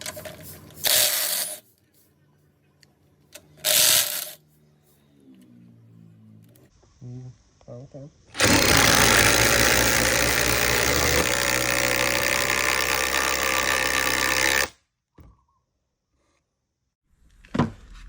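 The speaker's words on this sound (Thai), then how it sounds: "เดี๋ยวลองสังเกตการทำงานของหมวดที่ 2 กันนะครับ" An Osuka OCID821-D1 cordless impact driver with 235 Nm of torque, running in mode 2, gives a few short bursts and then a loud, steady, rattling run of about six seconds that stops abruptly.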